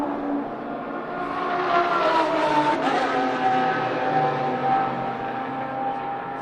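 Race cars pulling away at the start of a three-hour endurance race, engines rising together into a loud, sustained roar, with several layered engines swelling and fading at moderate distance.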